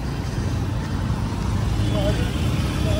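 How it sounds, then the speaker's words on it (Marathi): Steady road traffic at a signalised junction in Vishrantwadi, with a continuous low rumble of cars, trucks and buses and a faint horn near the end. "विश्रांतवाडी चौकात एक सिग्नल लागला की भरपूर ट्रॅफिक होऊन जात"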